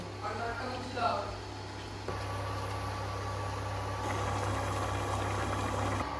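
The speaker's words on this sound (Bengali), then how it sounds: "খুব ভালো করে এই যে ফুটে গেছে" Potato and papaya curry bubbles in a pot at a steady simmer, a continuous soft burbling with a low hum beneath, moderately close and fairly quiet throughout.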